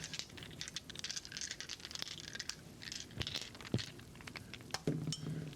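Small resin dice clinking and rattling, with scattered light taps and a couple of sharper drops onto a surface near the end, soft and close in a quiet room.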